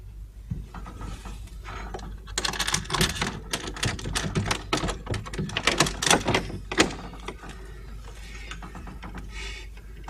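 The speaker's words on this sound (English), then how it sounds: "I'll unlock the door." A door in an early-1900s London household is unlocked: a run of close metallic clicks and ratcheting rattles from the lock mechanism, busiest in the middle and tapering off, with no speech.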